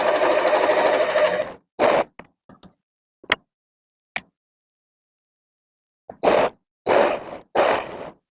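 A sewing machine runs in short bursts while piecing rows for a charity quilt: a close, whirring stretch of stitching, then scattered ticks and clicks in the quiet, followed by three more quick runs.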